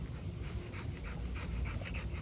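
Goldie, a large bully dog, pants close by in quick, steady rhythmic breaths over a low background hum.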